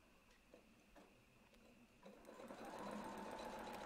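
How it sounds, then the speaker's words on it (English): A domestic sewing machine stitching fabric around a ruler template: a few soft, spaced ticks at first, then the motor winds up into a steady, faint whirring hum of continuous stitching. "With this ruler we're going to stitch around the ruler to the edge"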